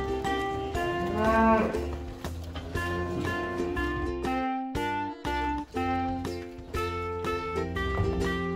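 Cattle on an English beef farm moo loudly and repeatedly at close range, several long, deep overlapping calls one after another with little pause.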